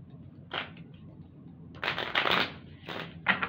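A deck of tarot cards is shuffled for a reading in quick riffling bursts, one short flutter and then several longer rushes close by, in a quiet room.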